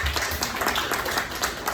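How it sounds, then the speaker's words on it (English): Brief burst of audience applause at a Milk Bar celebration event, dense clapping from a crowd lasting under two seconds, moderately loud. "Big applause for her."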